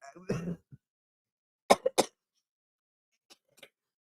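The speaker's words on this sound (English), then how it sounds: "so now I'm coughing up all this stuff." A man who recently quit cigarettes and cigars coughs in short, harsh bursts, a rough hack followed by a pair of quick coughs and faint throat sounds in a quiet room.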